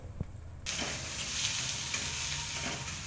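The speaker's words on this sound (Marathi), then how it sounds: "कांदे गुलाबीसर होईपर्यंत भाजून घ्यायचे." Finely chopped onions hit a pan with garlic and green chilli, bursting into a sudden loud, steady sizzle that carries on close and even after a quieter opening moment.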